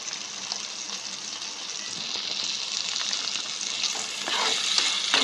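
Masala with onion paste and yogurt frying in a pan while being stirred, a dense, steady hiss that swells louder toward the end, without voices.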